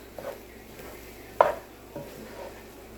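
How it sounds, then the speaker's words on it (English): Egg and rice get stirred together in a pan for a fried rice dish: quiet scrapes and soft clinks from a spatula, with one sharper knock in the middle and a faint background sizzle. "We're just going to mix this all together with the rice."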